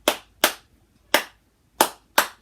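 A violin and viola class claps out a rhythm together: five sharp, crisp unison claps in an uneven pattern, fairly close, with no talking.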